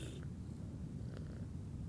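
A cat purrs in a low, steady rumble close by, soft and continuous, with a couple of faint brief noises over it.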